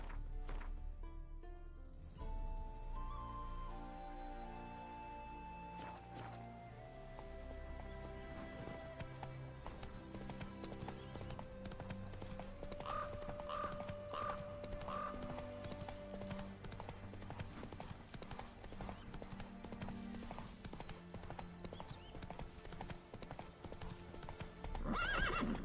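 Roach the horse gallops in The Witcher 3, steady clip-clop hoofbeats running under a musical score, with a whinny and snorts breaking through near the end.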